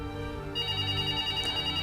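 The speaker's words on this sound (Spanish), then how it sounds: "El teléfono empieza a sonar" A telephone ringing in a documentary, a steady electronic tone that brightens partway through and rings continuously at moderate loudness.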